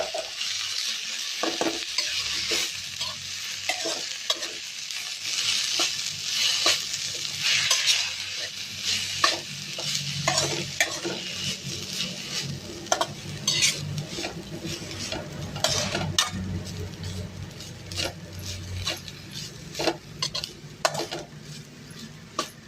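Grated coconut fries in a pan with steady, close sizzling under repeated scraping and clinking strokes of a spoon stirring against the metal, continuing throughout without speech.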